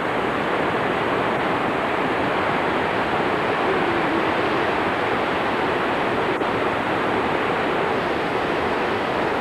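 Steady broadband rush of an Alaskan river flowing close by, a dense continuous roar with no pauses or talk over it.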